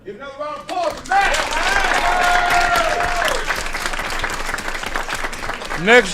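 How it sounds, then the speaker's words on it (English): A city council chamber audience claps in a steady, full round of applause lasting several seconds, with voices speaking over it at the start and again at the end. "Give another round of applause for Matt."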